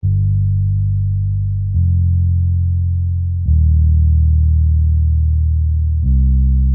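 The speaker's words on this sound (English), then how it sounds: "in order to turn it from a bass guitar into a deep bass" Sustained low notes from a bass guitar heavily processed into a deep bass, four long tones changing pitch, deep and smooth with the high end rolled off, playing alone.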